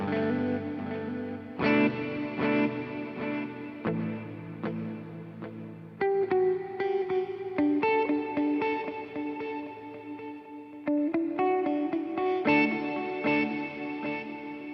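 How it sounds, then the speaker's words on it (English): Guitar played through the digital delay of an Alexander Pedals Rewind programmable echo pedal, with bit crushing added to the repeats: chords and single notes ring with gritty, lo-fi echoes trailing behind each attack, steady and fairly loud with no talk. "It does a bit crushing thing with the repeats."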